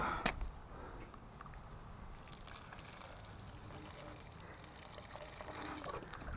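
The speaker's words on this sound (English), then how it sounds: "targeted watering, water goes straight down to the roots" Water is poured onto squash plants at an allotment garden, aimed down at the roots, giving a soft, steady splashing hiss, quiet and close, after a brief clatter at the start.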